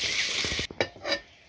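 Prawns fry in a pan with a bright, loud sizzle, then a few quick stirring scrapes and clinks as the spatula moves them, after which the sizzle fades to a quieter hiss.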